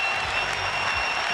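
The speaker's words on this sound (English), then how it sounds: "the fans are cheering for A-Rod as much as they booed him this year" A baseball crowd at a 2006 ALDS playoff game applauds and cheers for A-Rod, a dense, steady roar of clapping and voices that stays loud and unbroken throughout.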